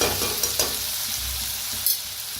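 Chopped onion and halved tomatoes roasting in a hot pan for a spicy masoor dal, with a steady close sizzle, a few scraping stirs, and a brief low rumble in the middle, no talking.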